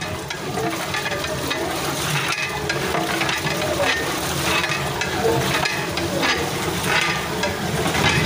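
Sugar is stirred into milk in a cooking pot over a high flame for a cream dessert, a steady close scraping and swishing that runs without a break under a faint bubbling hiss.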